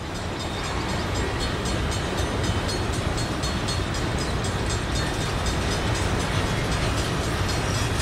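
A Union Pacific grain train of freight cars rolls past on Twin Cities & Western rails in Chanhassen, a loud steady rumble with rhythmic wheel clicks over the rail joints, close by and without talk.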